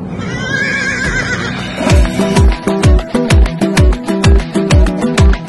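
At a baige horse race in Akshibulak village, Aksu district, Almaty region, a horse gives a loud, near whinny, then a rhythmic run of heavy thudding beats follows steadily to the end, with no talking.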